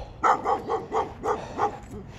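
A puppy barks and yips in a quick series of about six sharp, fairly close barks, outdoors during a jog along a route near a rocky coastline.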